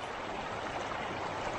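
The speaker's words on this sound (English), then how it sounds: "this is really the snow from the tops melting and flowing down" A Colorado mountain stream of melting snow flows steadily, a soft continuous rush of water heard alone at moderate distance.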